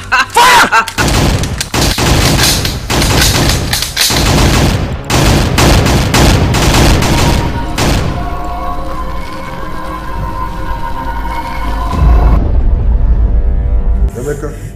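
Soldiers open fire on command in a Nigerian film scene, a loud fusillade of dense overlapping gunshots and booms for several seconds, then fading into quieter background sound.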